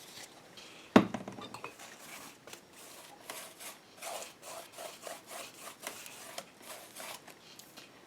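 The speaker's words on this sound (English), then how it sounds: "let's sand that a little bit. Nice and grungy." A varnished wooden piece being sanded by hand: one sharp knock, then soft, rhythmic scratchy rubbing strokes repeat at a steady pace, faint and close.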